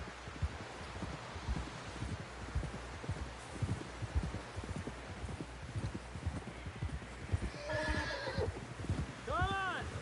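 Horse in Red Dead Redemption 2, with hooves clip-clopping in a steady rhythmic trot throughout, and a sharp whinny near the end; faint rustling beneath and a voice briefly present.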